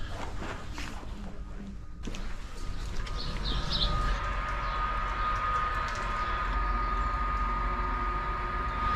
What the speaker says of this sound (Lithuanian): Iš antro perono išvažiuoja traukinys.